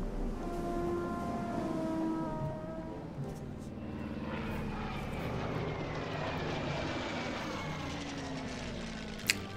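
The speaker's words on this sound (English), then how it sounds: "Lots of airplanes." WWII fighter and bomber engines, Spitfires, Hurricanes and Stukas, drone in a Battle of Britain scenario of the video game Order of Battle. A continuous, layered propeller roar holds steady throughout, with pitch shifting as planes pass.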